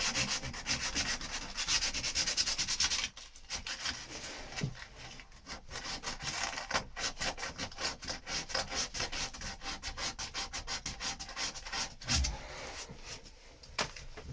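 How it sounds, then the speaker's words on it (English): An electric sander works over the top of a wooden boat, a close, steady abrasive rubbing and whirring that continues for the whole stretch with slight rhythmic variation and no speech. "I'll see what I can get the sander into there"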